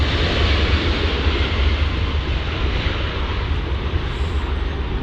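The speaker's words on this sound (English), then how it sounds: "MD-11." A McDonnell Douglas MD-11 airliner passes near DFW Airport, a broad steady roar of jet engines that stays loud and even throughout, with no voices over it.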